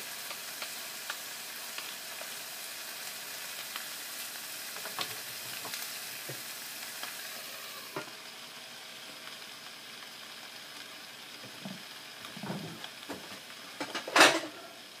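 Garlic and pork chops sizzle and fry in a pan, a steady bright hiss with light clinks of a utensil against the pan and a louder metallic scrape near the end.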